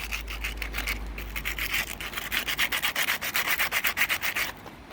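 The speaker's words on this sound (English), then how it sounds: "And sand it a bit." Steady back-and-forth sanding of corroded, rust-bumped contacts on a computer CPU, a close, raspy rhythmic rubbing that gets louder and faster midway, then stops near the end.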